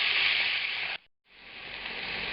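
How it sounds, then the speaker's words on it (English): The fat side of a pork cut searing in a hot pan gives a loud, steady hiss that cuts out to silence for a moment and then resumes more quietly. "I'm going to just cook the fat side for a minute or so here"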